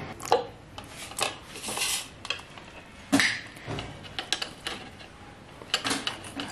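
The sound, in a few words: cutting chicken pieces with a knife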